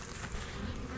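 Steady buzzing of many honeybees at hives in a South Carolina bee yard, a faint continuous hum with no voices.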